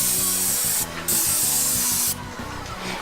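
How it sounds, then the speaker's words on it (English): Sherwin-Williams deck stain sprayed onto wooden floor boards while a brush works it in, a loud steady hiss of the sprayer broken by short pauses, with rhythmic scrubbing strokes of the brush across the boards. "he's gonna go ahead and spray the floor, and I'm gonna use this brush right here to back brush it out"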